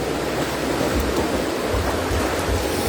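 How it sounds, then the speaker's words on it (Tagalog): A fast-flowing river current gives a steady, loud rushing wash of water close by, with no voices over it. "Pero mabilis yung agos niya ngayon."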